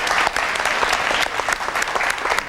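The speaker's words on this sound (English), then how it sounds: "Round of applause." An audience at a HACP boxing club event gives a round of applause: brisk, dense clapping from many hands, with scattered sharper claps standing out, loud and continuous for a couple of seconds.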